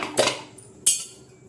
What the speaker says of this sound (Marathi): चला मैत्रिणी आता कुकरचं झाकण काढून घेऊया